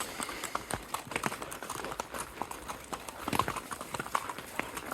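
Horse hooves clip-clop steadily along a trail on a horseback ride to the Javira waterfall near Trinidad, sounding close and continuous with a lively rhythm, with faint outdoor background noise.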